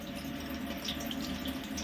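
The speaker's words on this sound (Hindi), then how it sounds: "थोड़ा सा इसमें चलाते हैं पानी ताकि फिल्टर हो जाए" Water runs steadily through a KENT Gold gravity water purifier with a soft, continuous hiss and gurgle, close by and without pause.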